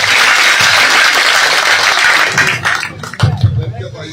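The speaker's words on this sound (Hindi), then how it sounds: "एक बार जोरदार तालियों के साथ अपने बेटे, अपने भाई का स्वागत करें, हौसला बढ़ाएं।" Loud, dense applause from a rally crowd welcoming a speaker fills most of the stretch, then thins into scattered claps and murmuring voices toward the end.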